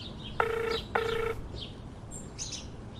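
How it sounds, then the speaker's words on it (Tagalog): A cellphone rings with two short, evenly spaced electronic tone bursts, quiet against soft background hiss, followed by a few faint chirpy sounds. "agriringan ti cellphone ni Panyero."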